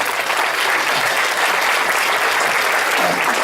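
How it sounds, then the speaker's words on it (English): Diners at a Chamber of Commerce annual dinner and dance give a loud, steady round of applause, thick continuous clapping filling the room with no talk over it. "Give them a round of applause for this thing."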